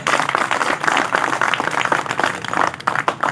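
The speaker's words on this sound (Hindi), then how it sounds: "ताली आप लोग बहुत दिल से बजा रहे हैं" Dense applause from a large audience at an indoor gathering, steady broadband clapping that swells and dips in waves for a few seconds, close and fairly loud.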